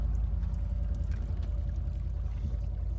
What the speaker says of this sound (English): there's literally water coming out of the exhaust pipe